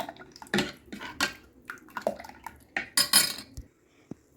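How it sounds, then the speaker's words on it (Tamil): Coconut milk going into a pot of sweet aadi paal, with a spoon and vessel clinking in irregular close knocks and a soft splash and drip, then quieter taps at the end. "இன்னும் கொஞ்சம் தேங்காய் பால் இருக்குது நம்ம அதையும் சேர்த்துக்கலாம்"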